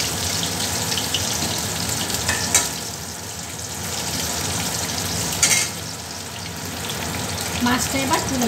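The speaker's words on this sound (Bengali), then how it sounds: "দেখো মাছটা লাল লাল করে ভাজা হয়ে গেছে, একটু কড়াই ভেজে নেবো মাছটা" Fish fries in a pan of hot oil, giving a continuous crackling sizzle with occasional sharper bursts from utensil contact, steady throughout with no talk.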